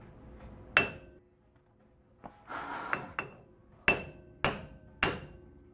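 Sharp metallic hammer blows knocking a wheel stud out of a Nissan Titan wheel hub, six loud close strikes spaced irregularly with brief ringing, plus a short scraping rattle between them.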